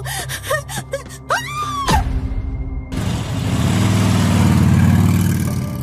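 A motorcycle engine hums low and steady, growing louder as it draws near, after a few sharp gasping breaths and a brief moan.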